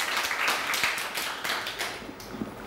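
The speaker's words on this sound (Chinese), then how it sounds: "来掌声欢迎" Audience applause welcoming a speaker at a small Taichung sharing event, a steady wash of clapping that fades toward the end.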